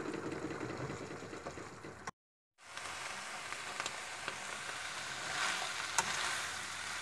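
Instant noodles fry in a pan for pansit guisado, a steady close sizzle broken by a short pause, then resuming with faint stirring clicks and scrapes.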